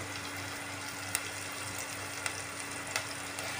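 Onions with ginger garlic paste sautéing in a pan, a steady soft sizzle with a low hum and a few faint clicks of a spatula against the pan.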